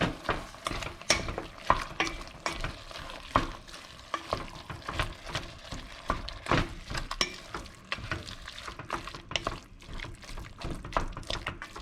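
Ground meat for chili browns in a pan, steady sizzling broken by frequent scraping, clattering stirs in an irregular rhythm, close and fairly loud with no talking.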